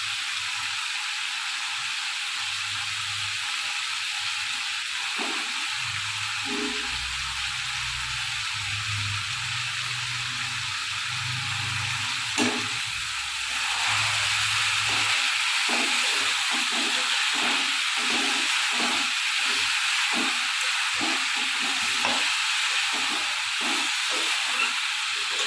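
Cabbage sizzles and hisses steadily in a hot pan as it is fried and stirred, a continuous loud frying wash with faint scraping knocks from stirring.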